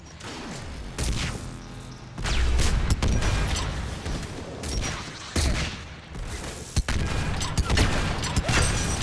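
Rocket launches and blasts in Mass Effect 3 combat, with repeated loud explosive bursts and crackling gunfire-like impacts spread across the stretch, several heavy booms standing out near and loud.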